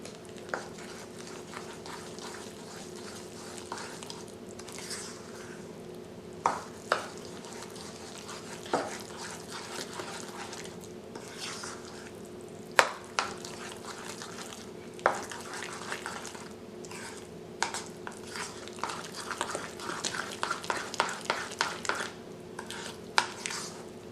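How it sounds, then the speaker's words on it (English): Pumpkin fritter batter of mashed pumpkin and vanilla extract being stirred in a bowl, a steady scraping and swishing with sharper clinks of utensil against the bowl scattered throughout, close and moderately quiet. "Stir all the ingredients until a batter is formed"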